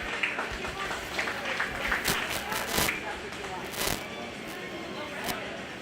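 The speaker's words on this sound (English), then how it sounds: "Let's give them both a round of applause." An audience at a 4-H/FFA goat and goat kid show at a county fair claps steadily for several seconds, a busy patter mixed with crowd murmur and a few sharper claps.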